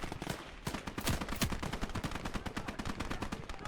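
Rapid bursts of gunfire in the WWII strategy game Gates of Hell: Ostfront, with dense machine-gun rattle and scattered rifle shots firing almost continuously and loudly throughout, no voices.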